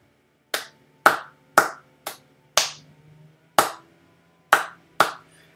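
Eight sharp hand claps in a syncopated pattern with uneven gaps, close and crisp, each with a short decay, no talking.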